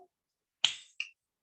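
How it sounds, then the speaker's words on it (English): Two crisp finger snaps, close and clear in a quiet room, the second a bit softer, about a third of a second apart. "Snap your fingers."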